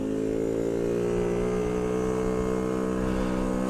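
A Bullit Hero 50cc motorbike engine drones steadily while riding, a loud, close, constant buzzing note that rises slightly in pitch over a few seconds amid wind noise.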